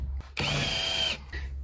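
Power drill boring small holes through the metal wall of a converted camper van: one sustained whine of about a second, close and loud, with short quieter stretches before and after.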